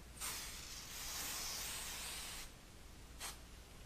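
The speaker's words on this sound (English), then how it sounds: "Now lightly spray the two stencils from about 12 inches away, very light." Spray paint hisses onto two stencils from about a foot away in one long light burst, a pause, then a brief second puff, each a soft close spray.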